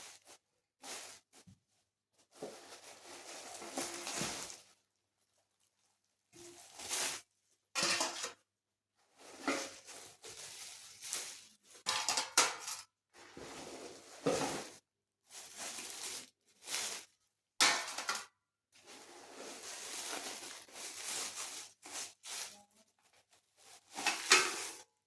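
Six large metal serving plates handled one at a time, with separate clanks and clatters spread across the stretch, broken by pauses of silence between.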